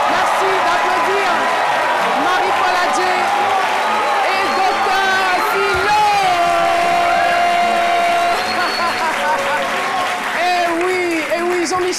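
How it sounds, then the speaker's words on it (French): A lively studio audience on a midday TV show applauds and cheers for a guest, loud sustained clapping mixed with whoops and shouting voices for the full stretch. "Merci de les applaudir"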